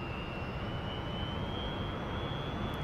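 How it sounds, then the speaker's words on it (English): Sukhoi Su-27 jet engine roaring at full afterburner in the DCS flight simulator, a steady, dense broadband rumble with a faint high whine held constant throughout, no voices. "Okay, throttle up to full burner, climb, and roll."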